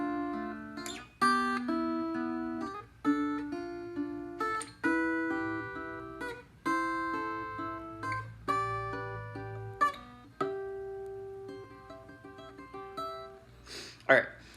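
A fingerpicked chord progression on three guitar strings, ending on C, rings out as a steady run of clear plucked notes and chords, close and moderately quiet, played alone with no talking.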